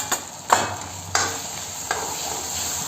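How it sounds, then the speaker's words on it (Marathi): Spices for mutton curry, including mutton masala, red chutney, chili, turmeric and coriander powder, are sautéed in a pan: a spatula scrapes a few times over a light sizzle, with no talking. "चांगलं मस्त परतून घ्यायचा."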